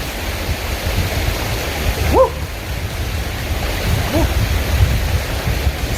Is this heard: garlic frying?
no